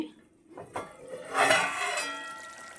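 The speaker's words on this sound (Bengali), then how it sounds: "ঢাকনাটা উঠিয়ে নিচ্ছি" A lid lifted off a pot of cooked rice, a metallic clink and scrape followed by a ringing pan tone and a soft hiss of steam, close, no talking.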